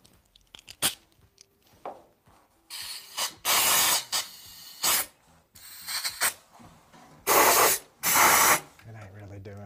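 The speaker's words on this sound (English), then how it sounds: "try to spray down in there, or like with air" Compressed air blasts down into the engine of a 1935 Ford truck in several loud, hissing bursts of a second or so each, separated by quieter clanks and handling noises.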